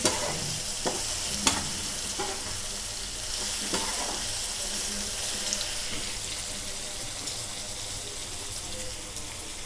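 Green chilies stirred into a mutton curry with sorrel leaves in a pan, giving a soft continuous sizzle and watery bubbling with occasional spoon scrapes and taps, faint and close.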